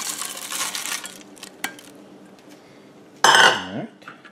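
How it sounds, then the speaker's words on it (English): Corn chips are stirred into skillet enchiladas in a Ninja Cooking System pot, with crunchy rustling and a spoon clinking against the pan, then a loud metallic clatter near the end. "Now we are going to stir in our corn chips that we made earlier, right here."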